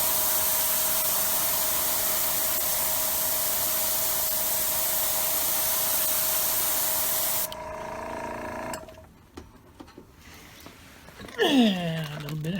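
A heat gun or hair dryer blows a steady, loud whooshing hiss while drying paint on a flat back shad plug lure, then cuts off, followed by faint handling noises and a brief voice.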